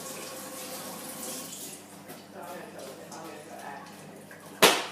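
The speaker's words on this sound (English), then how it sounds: "Washing my hands." Hands being washed under a running kitchen tap make a continuous splashing water sound with a sharp knock near the end.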